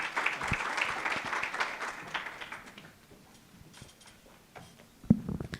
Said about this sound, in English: Please, a round of applause for Gadisi.